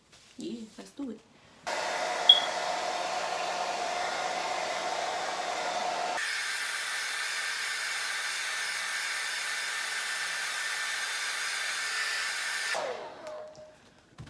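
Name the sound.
hair dryer heating a wig during install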